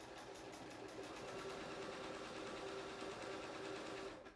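A sewing machine stitches fabric in a fast, even run of needle strokes with a motor whir, steady and close, stopping abruptly at the end; quiet overall.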